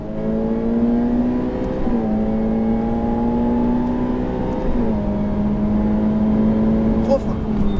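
A Ferrari F8 Tributo accelerates hard on a circuit: loud, near engine note climbing in pitch, with two quick upshifts dropping the tone before it rises again, whirring steadily throughout.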